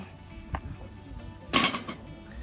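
A metal lid goes onto a coffee percolator with a light clink, then a louder metallic clatter a second later, over quiet outdoor background.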